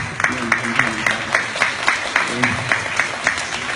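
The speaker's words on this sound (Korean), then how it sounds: "스타컴 기획의 김동원 대표님께 박수 한번 부탁드리겠습니다" An audience applauds at a painting-and-piano concert exhibition event, producing a brisk, fairly even run of clapping that stays up close and steady throughout.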